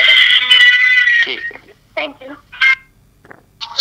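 A run of electronic keypad tones, steady and bright, followed by brief bursts of talk with pauses between them.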